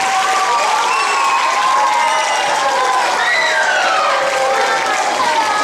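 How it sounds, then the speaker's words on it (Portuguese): At a stage show with an orchestra, an audience applauds and cheers loudly for the performers; sustained clapping is mixed with whoops and shouting voices throughout. "Queria uma salva de palmas para os grandes artistas"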